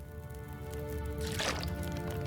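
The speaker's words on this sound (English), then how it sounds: "Let's go ahead and eat that jerky." A game character eats beef jerky in The Long Dark: a soft, wet squishy chewing burst rises near the middle of the short clip over a steady low background hum, moderately quiet and close.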